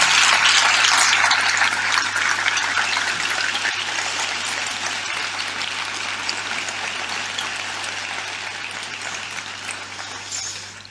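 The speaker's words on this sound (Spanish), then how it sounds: "que le demos un aplauso por el esfuerzo que ha hecho estar aquí" An audience at a lecture applauds, a long, steady roar of many hands that starts loud and slowly thins and softens over about eleven seconds.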